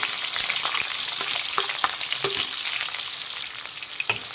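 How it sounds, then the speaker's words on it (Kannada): Two medium onions, sliced lengthwise, fry in hot oil in a pan for a spicy coriander chicken dish, giving a loud continuous sizzle with occasional stirring clicks and scrapes, near and alone. "ಈರುಳ್ಳಿ ಹಾಕ್ತಾಯಿದ್ದೀನಿ"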